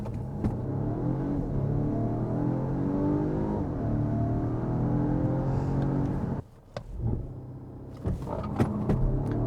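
A Volvo V60 Recharge T8 estate accelerates hard from standstill to 100, its engine note climbing steadily and loudly for about six seconds before cutting off abruptly, followed by quieter scattered noises.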